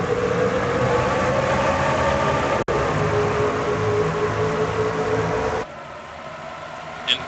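Race truck engines roar together at Charlotte Motor Speedway during a restart, a steady loud drone that holds for several seconds before dropping to a lower, more distant rumble.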